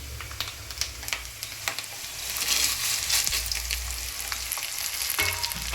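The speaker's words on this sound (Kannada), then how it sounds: "ಕರ್ಬೇವಿನ ಸೊಪ್ಪು, ಒಣಮೆಣಸಿನ್ಕಾಯಿ ಆ್ಯಡ್ ಮಾಡಿ ಈ ಥರ ಅದನ್ನು ಫ್ರೈ ಮಾಡ್ತೀವಿ." Curry leaves and dried red chilies frying in hot oil for a ragi poha tempering, a bright crackling sizzle that swells louder midway, with intermittent spatula scrapes and taps, close up and unaccompanied by speech.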